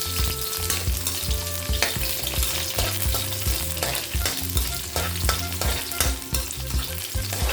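Onions for a liver and gizzard curry frying in a pan with a loud, steady sizzle and occasional stirring scrapes, close up, with no talking.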